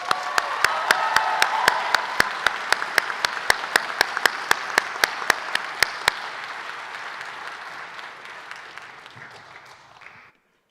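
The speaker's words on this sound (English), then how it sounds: "Let's give them a round of applause." Graduation audience applause fills a hall, a dense wash of many hands with one close, sharp clapper beating a steady rhythm, gradually thinning before stopping abruptly.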